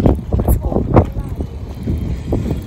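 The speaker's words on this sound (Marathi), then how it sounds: "वारा खूप आहे." Strong wind gusts beside a small lake footpath at Panchgani, buffeting the microphone with a low, steady rumble while people talk over it.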